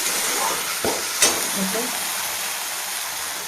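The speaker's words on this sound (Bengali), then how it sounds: "মশলাটা কষে নিচ্ছি" Spice paste for a cauliflower and potato curry sizzles in a pan, a steady close hiss broken by a couple of quick stirring scrapes.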